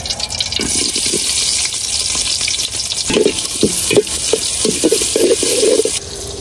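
Onion and garlic go into hot oil in a pot, setting off a steady hiss with spattering, bubbling pops that thicken toward the end.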